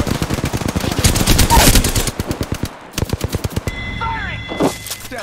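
Rapid automatic gunfire in Apex Legends, loud bursts of closely spaced shots broken by a brief pause, with in-game chirps and effects toward the end.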